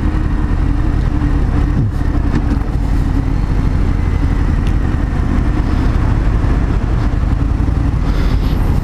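A Harley-Davidson Breakout 114 motorcycle engine runs steadily with a deep low rumble, heard close and continuous with no talk over it.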